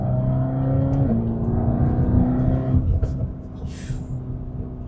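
Mercedes-AMG GT Black Series, 720 hp, accelerating at part throttle in a tall gear: a loud, steady engine drone with rising harmonics for about three seconds, then easing off as other noise takes over.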